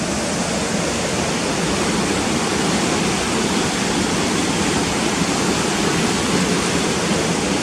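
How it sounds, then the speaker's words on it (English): Cotter Force waterfall, water rushing over rocks in a constant, dense roar with no let-up, loud and close, with no voices over it. "And that's looking down towards the waterfall of COTTER FORCE."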